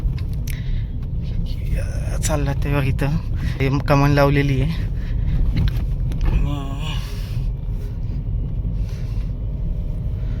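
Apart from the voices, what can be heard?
Tata Tiago automatic car driving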